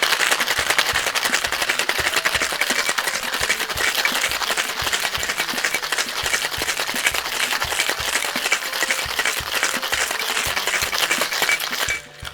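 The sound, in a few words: cocktail shaker filled with ice being shaken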